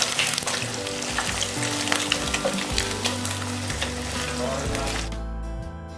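Fish pieces fry in hot oil in a pan with steady, loud sizzling and crackling bubbles, close up and continuous, with a voice faintly present underneath.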